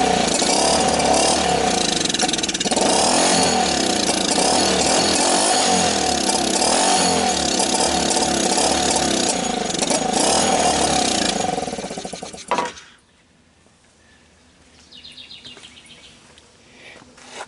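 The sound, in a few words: Simple BMX 90cc China-made ATV engine running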